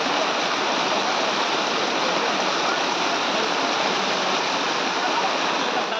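Floodwater rushes loudly and steadily through Talangana village in Upleta after a cloudburst dropped about twelve inches of rain in two hours, a dense unbroken roar of pouring water from start to finish.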